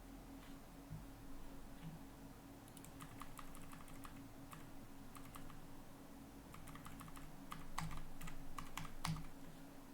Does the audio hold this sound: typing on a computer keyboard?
yes